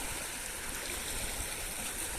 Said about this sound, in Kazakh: Мына жақтан су ағып отыр